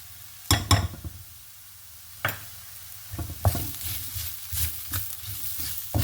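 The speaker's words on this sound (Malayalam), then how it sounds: "ഇത് ഒന്ന് ഇളക്കി യോജിപ്പിച്ച് കൊടുക്കണം" Spice powders, Kashmiri chilli and turmeric, being stirred into hot coconut oil in a pan for a bean thoran: a steady sizzle with sharp spoon scrapes and clinks, close and fairly loud, with no talking.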